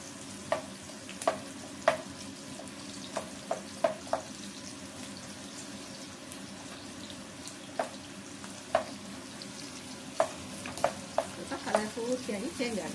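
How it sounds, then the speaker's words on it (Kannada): Chopped onions fry in hot oil while a spoon stirs them, giving a continuous low sizzle punctuated by sharp metallic taps and scrapes against the pan at irregular intervals, up close. "ಈರುಳ್ಳಿ ಹಾಕಿ ಸ್ವಲ್ಪ ಚೆನ್ನಾಗಿ ಫ್ರೈ ಮಾಡ್ತಾರೆ"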